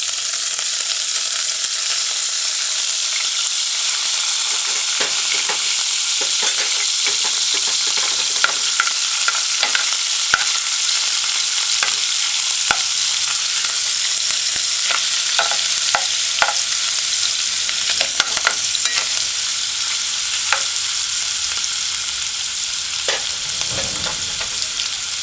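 Garlic and conch chunks fry in oil in a pot, giving a loud, continuous sizzle with scattered pops and occasional stirring scrapes, and nobody speaks.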